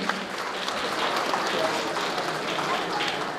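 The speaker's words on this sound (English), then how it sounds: "please join me in giving a big round of applause" A charity gala audience applauds the sponsors with steady, dense clapping that holds at an even level for the whole stretch and sounds like a large room full of people.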